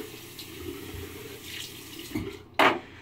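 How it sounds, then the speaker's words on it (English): Water runs from a bathroom sink tap as a face is rinsed, a soft steady trickle broken by brief splashes and a louder gush near the end. "I'm gonna rinse off my face and apply the lather."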